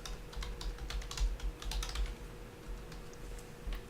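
Typing on a computer keyboard during tax software data entry, a steady run of quick, close key clicks with irregular bursts and no talking.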